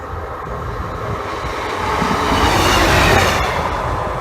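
A single Class 153 diesel railcar passing Stow Park level crossing, a loud, close, continuous roar of wheels and engine that swells toward the middle and holds steady, with no voices.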